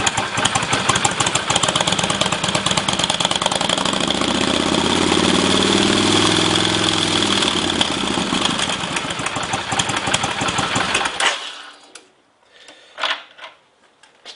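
A cruiser motorcycle engine idles close by with a steady loud rumbling throb that swells slightly midway, then cuts off around eleven seconds, leaving quiet with a few faint knocks.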